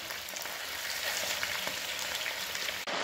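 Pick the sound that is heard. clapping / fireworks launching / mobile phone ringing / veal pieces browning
veal pieces browning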